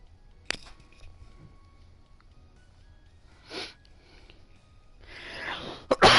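A single sneeze bursts out in a quiet room, short and sharp, followed by noisy shuffling and a small clatter.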